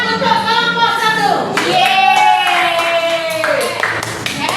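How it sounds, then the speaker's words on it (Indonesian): A classroom group claps loudly for about four seconds in steady applause, with excited young voices cheering over it. "Tepuk tangan untuk kelompok 1"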